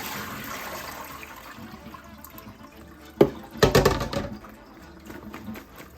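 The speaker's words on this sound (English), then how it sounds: "So I'm gonna pour the water off of here and rinse this one more time" Water is poured off and splashed over washed peppers and herbs in a kitchen, with a soft running trickle that swells into a louder, brief burst of pouring and sloshing before settling back.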